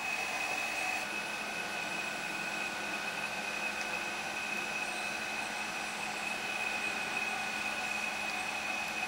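The hydraulic pump of a JX-F1650 RC truck crane runs to raise the crane's arm, giving a steady, even electric whine that holds at the same level throughout, with no talking.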